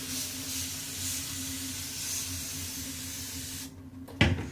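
A continuous hiss of hair spray lasting several seconds, steady and close, then it stops, followed by a short clunk.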